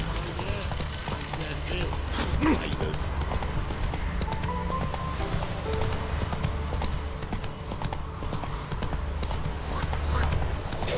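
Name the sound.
horse hooves trotting in video game The Witcher 3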